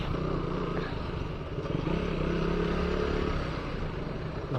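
A KTM Duke 200 BS3 motorcycle rides through city traffic, its engine droning steadily and loud up close throughout, with wind and road rumble and some faint clatter in the mix.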